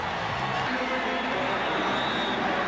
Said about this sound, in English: Listen to the crowd as we go to commercial